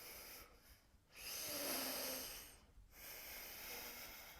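Slow, deep breaths held during a yoga pose in a beginner class, two long airy inhales or exhales rising and falling close by, with a brief pause between, no talking.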